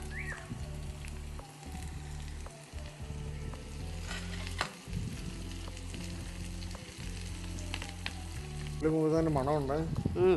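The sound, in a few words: shallots frying in oil with mustard seeds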